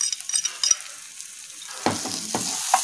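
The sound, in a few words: stirring garlic paste, turmeric and salt in a pan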